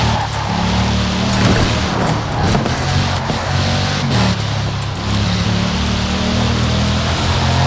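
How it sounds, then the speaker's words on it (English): A massive 16-cylinder car engine in Forza Horizon 4 growls loudly and continuously, a steady low rumble with shifting harmonic tones throughout, alone with no talk. "So listen to that massive 16-cylinder engine growl."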